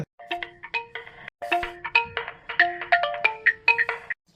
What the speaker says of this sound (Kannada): ಇವೇನಪ್ಪ ಮನ್ಮತ್ ರಾಜ ಮತ್ ಫೋನ್ ಹಚ್ಚಾಕತ್ನಲ್ಲ